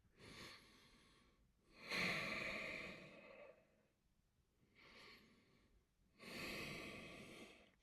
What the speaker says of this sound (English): Breathing in and out through your nose.